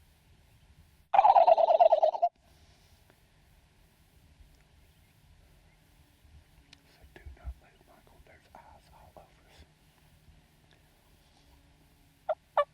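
One loud, rattling turkey gobble bursts out early, then quiet outdoor ambience with soft whispered talk and faint distant bird calls.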